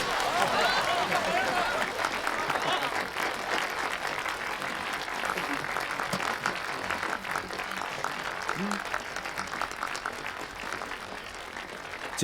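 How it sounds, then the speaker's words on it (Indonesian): A crowd applauds for police officer Budi after he rescues a hostage, a dense and sustained burst of clapping that stays loud throughout, with voices faintly underneath. "Tepuk tangan untuknya."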